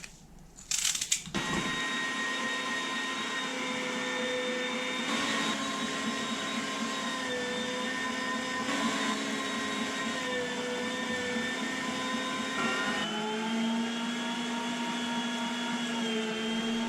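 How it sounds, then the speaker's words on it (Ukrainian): An electric meat grinder minces onion. After a brief clatter as it starts, a steady, loud motor whine with a strong hum holds almost unchanged throughout. "І цибулю. Теж буду перекручувати на м'ясорубці."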